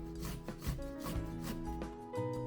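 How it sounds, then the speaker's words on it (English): Beets rasping against a grater in rhythmic strokes, a repeated scraping rub about twice per second, close and fairly quiet, with a faint steady tone underneath and no talking. "And finally the beet. I grate them too."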